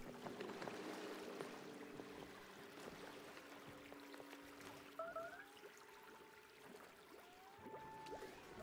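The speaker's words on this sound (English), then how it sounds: "It even sounds like running water." Running water flows in the video game Oxygen Not Included, a faint, steady trickling stream mixed with soft tonal game chimes.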